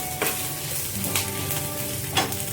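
Sesame seeds and curry leaves fry in a pan with a steady close sizzle, broken by a few sharp stirring scrapes and crackles; no voices.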